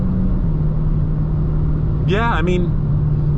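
A Dodge Challenger Scat Pack T/A 392 V8 drones steadily and loudly through a fast corner, a constant low engine rumble from inside the car, with a brief stretch of talk over it.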